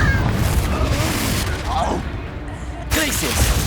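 Repeated blasting-spell explosions from Confringo in Hogwarts Legacy, booming bursts mixed into busy combat noise with a voice talking over them.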